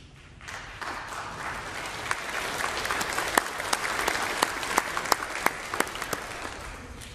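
A worship service congregation applauds in a church hall, moderately distant clapping that swells quickly, then holds steady with a few sharper individual claps standing out above the crowd.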